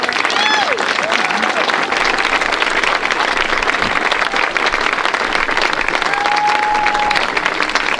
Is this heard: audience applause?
yes